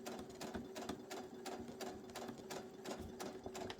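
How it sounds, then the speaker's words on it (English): A sewing machine back stitches a stress point on a shirt seam near the arm band, a steady close whirring with a rapid rhythmic needle clatter running throughout. "I'm going to double back stitch here because that is a stress point."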